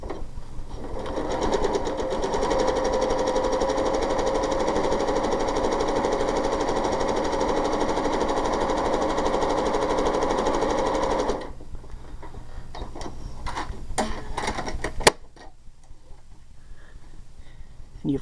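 A sewing machine runs a fast, steady stitch for about eleven seconds while closing a quilt binding seam, then stops, leaving a few light clicks and a sharp tap in a quieter room.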